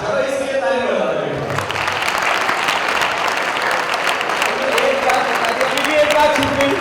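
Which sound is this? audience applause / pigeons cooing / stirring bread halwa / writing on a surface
audience applause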